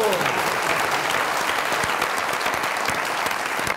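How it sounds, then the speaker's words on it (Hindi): A studio audience at a comedy talk show claps in a dense, loud, continuous wave of applause that holds steady throughout. "इसलिए बहुत सारी तालियां।"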